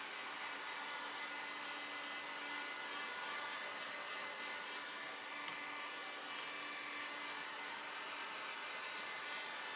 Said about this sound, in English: using this hot air blower just to help the glue go tacky